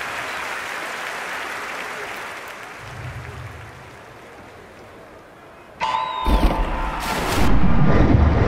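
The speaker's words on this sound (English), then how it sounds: "A sold-out crowd for the men's final of the 50 metres freestyle." Crowd applause and cheering in a sold-out video-game aquatic centre for a men's 50 metres freestyle swimming final, a steady wash of clapping that swells louder near the end, with a bright chime-like tone cutting in.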